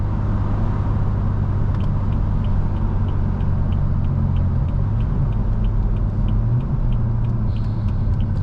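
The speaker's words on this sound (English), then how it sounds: "Right now I just got a muffler delete, so it's not quiet, but it's not loud." Inside a BMW F30 with a muffler delete, a steady low engine and exhaust drone rumbles throughout, droning evenly with faint rhythmic ticking above it and no voices.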